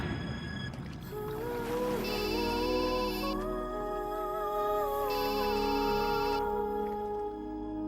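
A phone ringtone for an incoming call plays as a melodic tune with bright repeating beeps, steady and clear over a quiet room, lasting several seconds.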